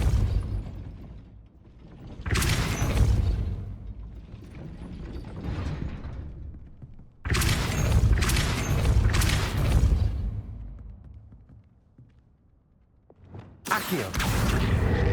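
Gate mechanism raising in the video game Hogwarts Legacy, with heavy grinding and ratcheting gear clatter in several surges and a deep rumbling undertone, loud and with no speech.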